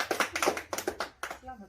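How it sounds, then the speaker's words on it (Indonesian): A group of mothers at a community health session on stunting prevention claps briefly in a quick, rhythmic burst of sharp hand claps, close by, with a voice speaking just after. "Oke, tepuk tangan."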